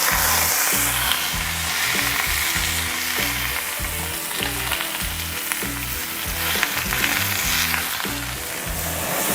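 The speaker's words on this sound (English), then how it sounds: "And then we're gonna put the steak right on." A tomahawk steak laid on a very hot oiled grill, crackling and sizzling loudly and steadily throughout, with a rhythmic low thumping beneath and no talking.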